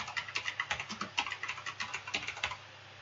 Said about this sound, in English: I'm going to type in set scalar parameter